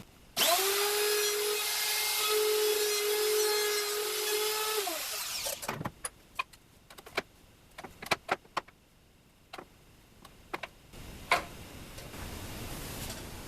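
A power tool bevels a wooden piece with a loud, steady high whine for about five seconds, then winds down. Scattered close taps, clicks and knocks follow in a quiet room.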